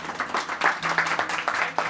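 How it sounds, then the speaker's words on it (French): A restaurant audience applauds chef Kevin, close and lively clapping from a small crowd that carries on in uneven waves for the whole moment. "Je suis émue quand on applaudit Kevin"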